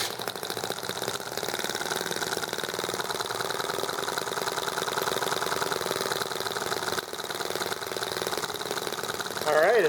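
Warmed-up EM1 engine running on Coleman gas, a steady, rapid mechanical putter with a busy knocking rhythm that holds nearly constant, close and fairly loud, with a brief dip near the end.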